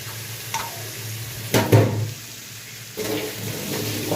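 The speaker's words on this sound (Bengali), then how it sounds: "কল খুলেছে, জলের আওয়াজ" Water gushes from an opened kitchen tap, a steady broad hiss that starts partway through over a low background hum, with a brief louder splash or clatter before it.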